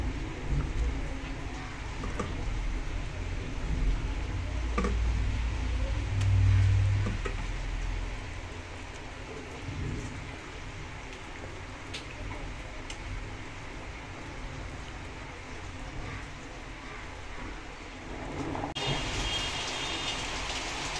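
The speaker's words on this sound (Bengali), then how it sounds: "মাছ সিদ্ধ হয়ে গেছে, ঝোল ফুটে গেছে" Pabda fish kalia gravy simmers at a boil in a pan, giving a continuous patter of bubbling over a low rumble, fairly even in loudness with a brief change near the end.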